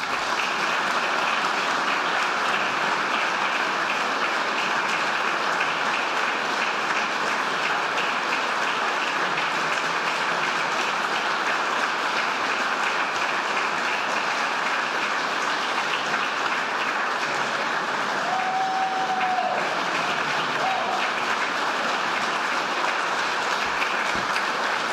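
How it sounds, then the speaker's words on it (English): An audience at a 150th celebration lecture applauds in a dense, continuous wash of clapping that stays loud and steady throughout. "I felt that that was a birthday clapping for my father."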